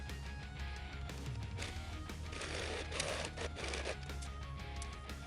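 A sewing machine runs steadily, stitching about an eighth of an inch from the edge to join a seam allowance to pocket fabric on a tiered skirt, producing a continuous, fairly quiet mechanical whir with no pauses.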